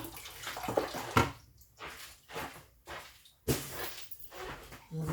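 A peeled onion rinsed under a running kitchen tap: bursts of splashing water that start and stop several times, fairly close, with a faint knock and shuffle between the bursts and no talking.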